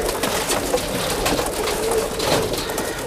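A Teddy pigeon held in the hand, cooing in low, repeated murmurs close to the microphone over steady background noise.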